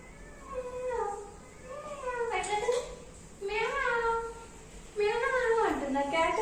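A cat meows repeatedly, three drawn-out rising and falling meows close by, each a little louder than the last, in a quiet room.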